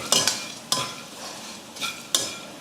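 Fried dried fish (karuvadu) is stirred into a kambu mixture with a spoon, giving four or five distinct scraping strokes against the pot, close and moderately loud with no talking.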